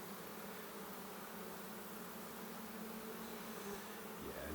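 A steady, droning buzz of many honey bees at a hive fills the air continuously at close range, with no talking.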